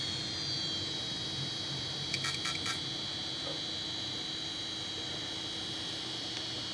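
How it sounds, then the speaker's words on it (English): A computer hard drive booting up inside a nerd-built Christmas tree PC: a steady high whine over a low fan-like hum, with a brief burst of clicking seeks, faint and continuous. "What you're hearing now is our hard drive booting up."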